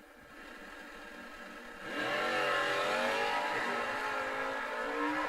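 A drag racing launch at a Verge Quick Outlaw Series race, where Mark Poole's Cuda in the left lane and Ricky Decker's car in the right lane open up from a low idle into a loud, sustained rising roar.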